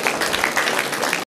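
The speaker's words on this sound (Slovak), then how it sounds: "Myslím si, že si zaslúži potlesk ešte jeden" Audience applause at an award ceremony for a furniture and living exhibition, a dense, steady burst of clapping from many hands lasting just over a second before cutting off abruptly.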